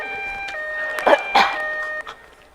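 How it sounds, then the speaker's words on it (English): A steady electronic alarm tone drones for about two seconds, stepping in pitch partway through, with a couple of brief thumps in the middle. "Is that your smoke detector?"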